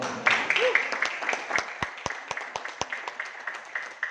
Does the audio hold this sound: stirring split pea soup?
no